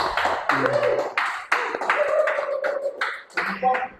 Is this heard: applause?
yes